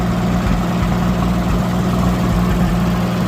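An old tractor engine idles close by with a steady, low, throbbing rumble and a slight uneven pulse, continuous and loud, with no one talking.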